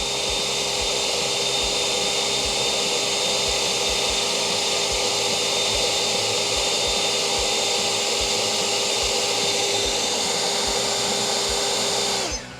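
AiDot Enhulk 930 cordless leaf blower running on turbo outdoors, a loud, steady high-pitched motor whine and rushing air roar held constant for about twelve seconds before cutting off at the end.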